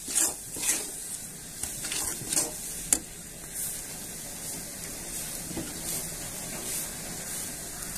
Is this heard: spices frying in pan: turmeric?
yes